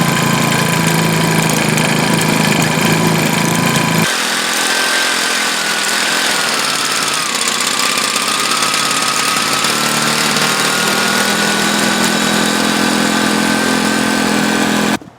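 A pull-start gas engine kicking over and settling into a loud, steady running drone, close by, with a rough chugging start giving way to a continuous even roar that cuts off at the end.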